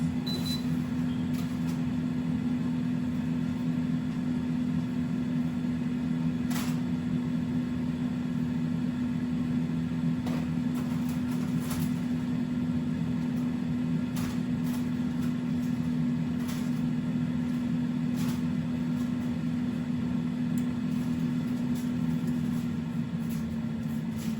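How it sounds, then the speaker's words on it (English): An air fryer runs while cooking two pork chops on liners, giving off a steady, unbroken low hum with a constant fan whir and a few faint clicks, with no talking. "These are the 2 pork chops that I am cooking in the air fryer"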